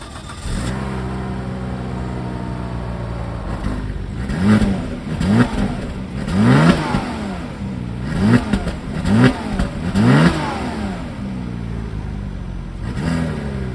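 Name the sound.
Volvo car engine accelerating on a drive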